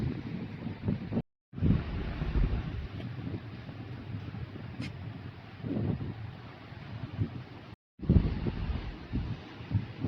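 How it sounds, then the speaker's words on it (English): Strong, freezing wind roars and buffets the microphone in heavy gusts on the seaside at Cromer, England, with brief cuts to silence and a faint surf-like wash underneath. "Freezing cold and really windy"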